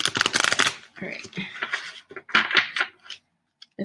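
A large tarot deck being shuffled by hand, with rapid riffling card flutters in bursts and pauses, close and crisp, with some quiet talk.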